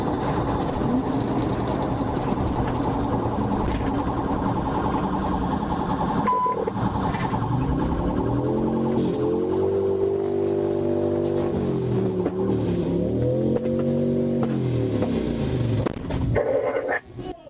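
A police siren wails with rising and falling sweeps during a high-speed pursuit of a stolen Mercedes, loud and continuous over roaring engine and road noise, with a brief louder burst near the end.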